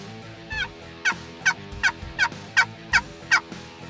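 Wild turkeys gobbling near a food plot during spring hunting, eight or so loud repeated gobbles at a steady rhythm, fairly close, with no talk.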